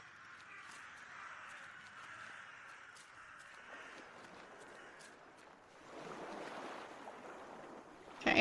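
Ocean waves wash in from a foggy shoreline in The Last Door, a broad steady rush that swells louder partway through, with a soft high airy hiss on top and a sudden sharp burst at the very end.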